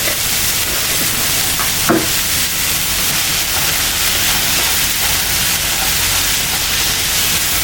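Tomatoes sautéing with a little salt in a pan for vegetable salna, roadside Puducherry style: a loud, steady hissing sizzle that stays constant throughout, with an occasional faint clink of stirring.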